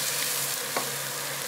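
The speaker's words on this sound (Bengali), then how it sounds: "তারপরে একটু ভাজবো, যাতে যত বেশি ভাজা হয় তত বেশি মজা হয়।" Vegetable curry sizzles steadily in a pan, a loud continuous frying hiss with a brief stir or scrape partway through.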